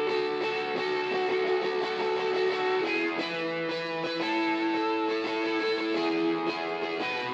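Reverb from a Studio One analog plugin suite is added to a melodic part already carrying chorus and doubler, so sustained notes step along with a washed, lingering tail, continuous and without speech.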